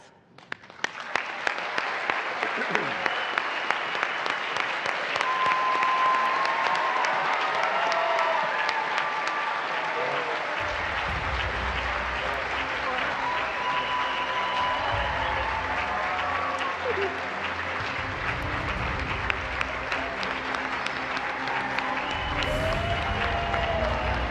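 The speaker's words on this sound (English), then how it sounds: "Great round of applause." A large ceremony crowd bursts into long, sustained applause for NASA's new astronaut class, with scattered cheers and whoops rising over the dense clapping and a few voices calling out.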